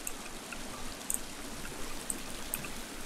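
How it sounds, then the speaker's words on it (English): Water flows steadily in a stream in The Forest video game, a constant soft rushing with faint scattered trickles and drips, heard alone. "There's the water."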